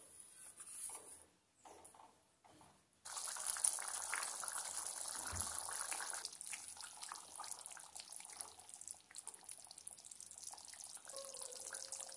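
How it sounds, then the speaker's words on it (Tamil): Vatha kulambu, a tamarind curry, boils on medium heat, giving a steady hissing, bubbling simmer close by, broken by a few brief pauses and clatters early on, then continuing evenly with no voices. "அடுப்பை வந்து மீடியம் ஹீட்டில் வச்சு குழம்பு வந்து நல்லா கொதித்து சுண்டி வர அளவுக்கு அடுப்பில் இருக்கட்டும்"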